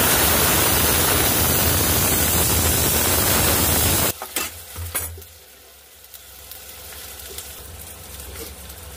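Chopped tomato with turmeric and chilli powder sautéing in hot oil, a loud dense sizzle for the first four seconds that drops sharply, leaving a quieter simmering crackle with a few stirring knocks.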